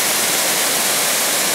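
A waterfall surrounding a small island in Champasak, near Pakse in Laos, roars as a loud, steady, dense wash of rushing water that fills the whole stretch, with no voices.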